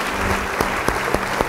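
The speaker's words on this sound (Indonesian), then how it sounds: "Yang percaya, beri tepuk tangan bagi Dia" Church congregation applauding in a short burst, dense steady clapping with a few sharper individual claps standing out, moderately loud and close, no talking over it.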